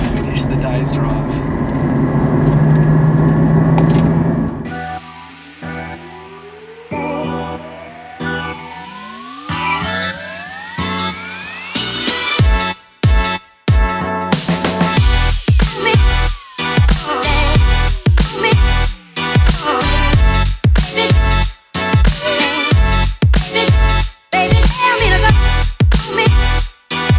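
A Porsche Cayman GT4 engine drives through Hellier Gorge. A steady drone gives way to a rising, revving note, then to loud, rhythmic, pulsing engine bursts through gear changes, close and continuous.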